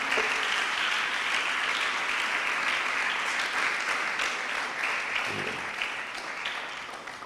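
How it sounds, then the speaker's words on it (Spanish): Sustained applause from a church congregation during an evening service, steady dense clapping filling the whole stretch and tapering slightly near the end. "Denle un aplauso al Señor esta noche"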